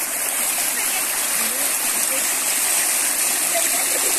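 Water splashing and rushing in a river, with a steady broadband stream roar throughout and a voice and laughter over it.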